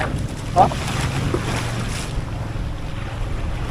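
Sea waves and wind at a beach resort, a broad rushing wash of surf with wind buffeting the microphone, fairly close and continuous, with a brief thud early and faint voices in the background.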